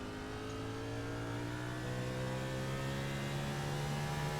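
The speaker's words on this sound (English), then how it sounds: "Listen to Brody's car as he comes into that straightaway and listen for the gear shift." Sim racing game race car engine droning steadily at high revs in a Cup Series race on the Charlotte Roval, a continuous loud tone with a slight pitch shift near the gear change, no voices.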